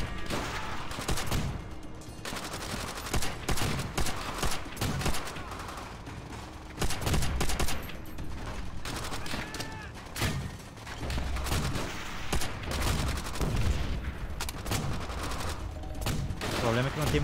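BAR automatic rifle in Call of Duty: World at War fires dense, rapid bursts of loud, sharp shots, continuous across the stretch with brief lulls, mixed with other battle noise and occasional voices.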